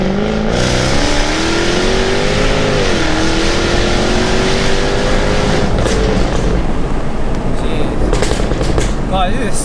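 A loud 700 bhp methanol-injected Jaguar F-Type S engine roars and climbs in pitch as the car accelerates hard, with rumbling exhaust and a rapid crackle, voices faintly underneath.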